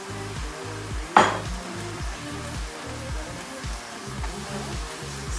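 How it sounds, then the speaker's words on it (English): Mushrooms and pork with oyster sauce stirred in a pan, a single sharp utensil scrape over a soft continuous sizzle and a low repeating background hum. "Stir it around."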